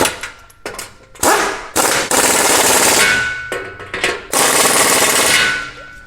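A 3/8 socket tightens an exhaust clamp on a Ford 6.2L or 7.3L clamp-on exhaust kit, producing loud, harsh rattling bursts in several close, uneven runs with short pauses.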